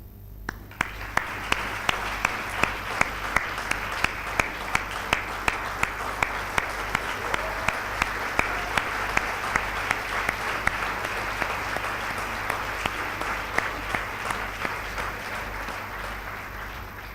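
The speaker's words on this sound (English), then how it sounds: "ask the rest of my class to join me in applauding your efforts" Sustained audience applause fills a graduation ceremony, dense steady clapping from a large crowd with a few sharper claps standing out, continuing evenly throughout without speech.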